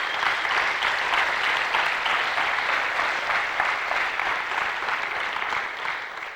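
A high school graduation audience of parents, friends and faculty claps in a full, sustained round of applause that holds steady and then tapers slightly at the end.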